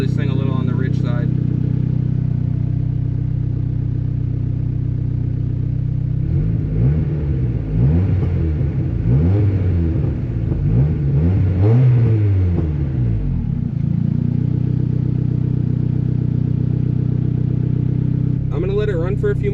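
A turbocharged Honda D16 running on E85 ethanol idles steadily with a low rumble, then revs up and down several times in the middle before settling back to idle, with a brief voice at the start and end.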